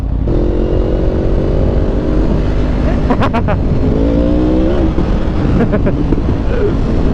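Cars race past a highway patrol station, with engines roaring continuously and loud, revving and shifting pitch. A few sharp transient bursts sit on top of the dense engine noise.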